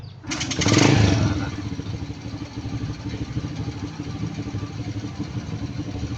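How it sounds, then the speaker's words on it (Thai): A cold motorcycle engine with a carburetor kicks over with a loud burst and catches, then settles into a steady, close idle that runs alone to the end. "เขี่ยขาสตาร์ทเท้าออกติดเครื่อง"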